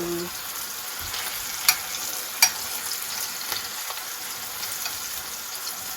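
A salmon fillet pan-searing alongside vegetables gives a steady, close sizzle broken by a couple of sharp utensil clicks against the pan.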